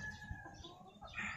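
Rooster among backyard game fowl, quiet clucks and calls rising into a brighter crowing note at the end, with faint thuds and yard noise underneath.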